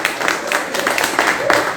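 A church audience claps in a dense, steady round of applause honoring a pastor, with a voice talking over the clapping.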